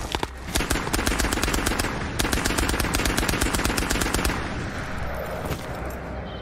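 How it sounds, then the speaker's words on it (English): A scav firing at the player in the VR shooter game Ghosts of Tabor, loud rapid automatic gunfire in long sustained bursts with a brief pause between them, then fading into a trailing echo, with no talking. "no way this scav is shooting at me"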